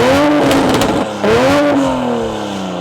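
A 2020 Toyota Supra with the B58 engine revs hard, its close, loud tone climbing in pitch, falling briefly, then rising again before settling into a steady drone.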